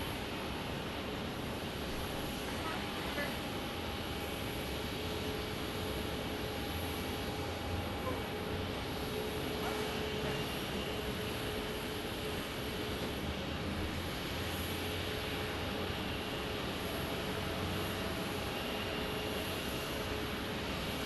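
Hawker business jet at Phoenix Sky Harbor airport, a constant distant roar of jet engine noise lasting about twenty seconds at an even, fairly faint level, with no voices.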